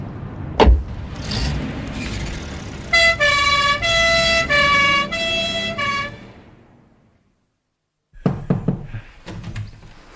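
In a radio drama, a two-tone siren wails over a revving road vehicle as an ambulance arrives at a bank, holding loud for a few seconds before fading to silence, followed by clunks and door-like knocks.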